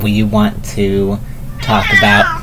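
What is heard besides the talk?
cat meowing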